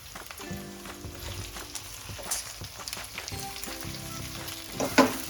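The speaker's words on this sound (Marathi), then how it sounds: "आता आपण पुन्हा एकदा परतून घ्यायचे व्यवस्थित." Stuffed okra stir-fried in a pan sizzles and crackles steadily, with scraping stirs and a sharper spatter near the end; no talking.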